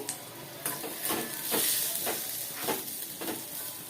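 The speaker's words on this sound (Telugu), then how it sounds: "ఉల్లిపాయలు వేసుకోవాలి అది కొంచెం వేగాలండి" A chopped onion fries in hot oil in a pan for chutney, giving a steady sizzling hiss broken by five or six rhythmic stirring scrapes, close and clear with no talk.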